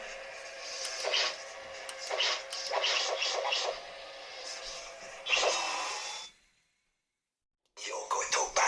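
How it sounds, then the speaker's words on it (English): Highlander sound font playing on a Proffie-board Anakin Knightfall lightsaber: a steady electronic hum with bright crackling swing and clash bursts, a sudden cutoff into near silence, then the buzzing blade returns loudly near the end. "This is the Highlander sound font."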